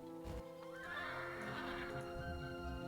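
A horse at the stables in the Heroes of Might & Magic 5 video game gives one long, clear, close neigh with a wavering whinny, over a steady game-music background.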